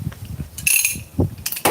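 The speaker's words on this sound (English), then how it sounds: "I'm going to get a different type of wrench here, because these are pretty tight" Tight spark plugs on a 1998–2011 Ford Crown Victoria being worked loose with an old wrench from around 1910, giving brief ratcheting and metallic clicks in a few separate bursts, fairly close and with no talk.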